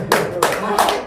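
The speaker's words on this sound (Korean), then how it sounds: "또 박수 주시려고." A brief burst of audience applause at a Korean talk, heard as a few loud claps in quick succession, close and dense.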